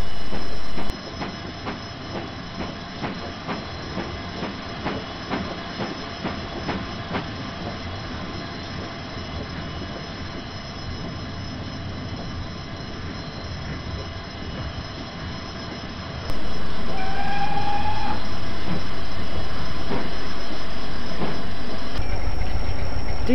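A train rumbles steadily along the West Somerset Railway line at low speed, with rhythmic clatter and a brief squeal, growing louder and closer toward the end.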